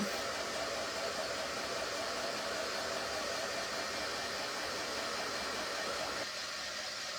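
Handheld dryer blowing on freshly printed ink on a summer shirt, a steady, fairly faint whooshing hiss of air that runs continuously and softens slightly near the end, with no voices.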